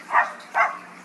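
A bird imitates a dog, giving two short, sharp barks in quick succession, close and clear with nothing else around them.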